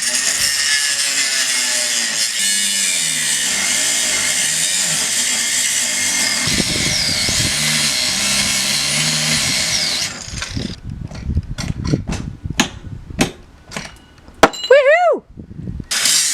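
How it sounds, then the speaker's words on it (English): An angle grinder cuts into a van roof, whining loudly and steadily for about ten seconds before breaking into choppy, uneven bursts with clanks and scraping as the cut continues, close and dominant. "let's just do the angle grinder"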